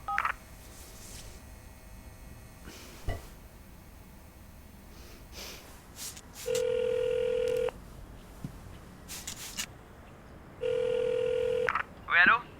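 A landline telephone hung up, followed by a steady electronic dial tone that sounds in two flat stretches between quieter moments with a voice and small handling noises.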